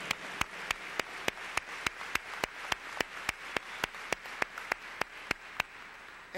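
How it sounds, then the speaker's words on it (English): A single pair of hands claps near the microphone at a steady, even pace of roughly four per second, crisp and distinct, during a conference keynote in Las Vegas, with no talking. "Let's give them a big hand."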